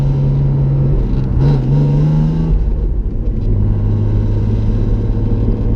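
BMW E36 with a 2.5 engine driving and accelerating, its engine note rising and falling, then settling into a steady hum with a low rumble, close and loud, with no talk.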